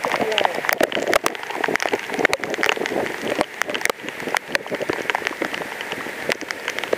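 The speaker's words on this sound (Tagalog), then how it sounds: "Malakas ng ulan!" Heavy rain pounds down steadily in a dense, loud patter with sharp drop impacts, recorded close on an Akaso Brave 7 LE action camera used without a waterproof cover, with a voice faintly present.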